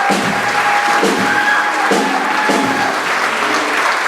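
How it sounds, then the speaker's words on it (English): A crowd at a jazz concert breaks into steady applause for the tenor saxophonist, full clapping with scattered cheers and a voice calling out over it. "Please give a huge round of applause"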